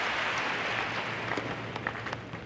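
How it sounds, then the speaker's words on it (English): Crowd cheering and applauding at a US Open tennis match, a broad wash of clapping and cheers that starts loud and slowly fades over a couple of seconds. "You have to listen to the cheer to know who won that particular point."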